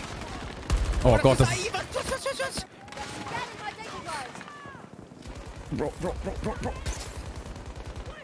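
Rapid bursts of video game gunfire crackle in the online shooter Hazard Zone, several volleys rattling over excited German chatter from players talking throughout.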